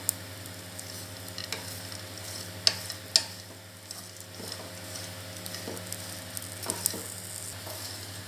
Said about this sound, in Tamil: இதை நல்லா ரோஸ்ட் பண்ணிக்கலாம்.